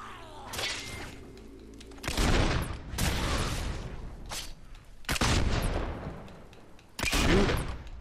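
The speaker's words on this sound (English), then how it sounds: "that blunderbuss is my new favorite purchase" Blunderbuss fire in Fable 2: a handful of loud, booming shots spaced a second or two apart, each a broad crack that tails off into a rough, noisy decay, alone with no talk.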